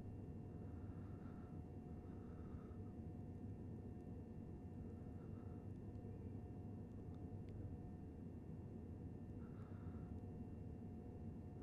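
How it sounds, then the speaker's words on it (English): A passing aircraft in the Train Sim World game, on the Gatwick Express route, gives a steady, low, continuous rumble that stays even throughout, with faint tonal hum on top and no talking. "There's a plane going overhead."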